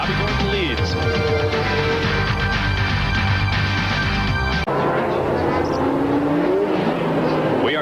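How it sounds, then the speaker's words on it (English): 1991 IMSA GTO race cars circulating under a safety car at the Del Mar street circuit in California, a steady engine drone with passing cars, heard beneath race commentary. "The safety car is indeed on the racetrack here in Del Mar."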